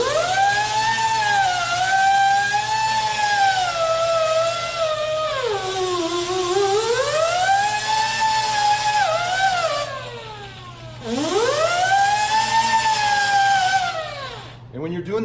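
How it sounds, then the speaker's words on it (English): A power tool with a buffing pad whirs steadily, its pitch rising and falling as it polishes a metal hammer head, with a brief dip near the end. "now you can go ahead and polish the hammerhead"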